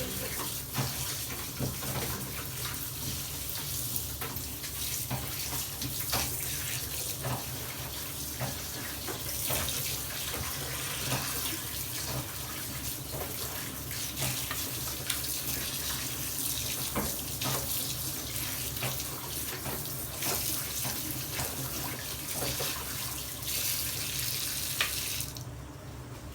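Chicken pieces are washed by hand under a running tap for an Indian chicken curry, a steady close stream of water splashing into a sink with intermittent sloshing and clinks as the pieces are rubbed.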